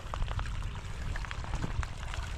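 Water pours steadily onto bitter gourd plants in a field, a soft continuous splashing and trickling with no voices over it.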